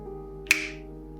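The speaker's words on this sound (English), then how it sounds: "snapping your fingers" A single crisp finger snap, close and sharp, standing alone over a quiet hum.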